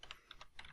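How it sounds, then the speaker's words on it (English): Several quick keystrokes on a computer keyboard, entered into a code editor, tapped in short close bursts with brief pauses between them and no voices. "I'm going to go back to the Visual Basic Editor and type in here"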